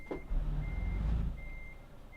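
Truck reversing beeps from a heavy lorry backing up in Euro Truck Simulator, steady evenly spaced tones over a low engine rumble, with a louder engine surge partway through.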